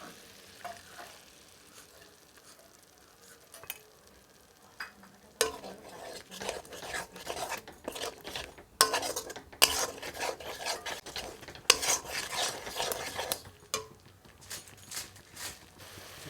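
A spice paste of chilli, cumin, turmeric and coriander hits a hot pan for mutton curry, with a soft background until a sudden loud sizzle, followed by bursts of frying and stirring scrapes that rise and fall.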